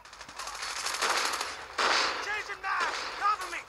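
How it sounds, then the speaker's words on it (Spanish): Call of Duty Mobile multiplayer gunfire: rapid automatic bursts and scattered shots, loud and close, with a voice talking over parts of it. "¡Ah! Me están disparando, banda."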